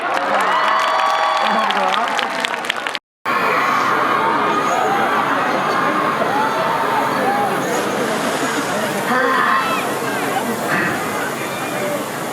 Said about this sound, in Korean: 박수를 청해 듣도록 하겠습니다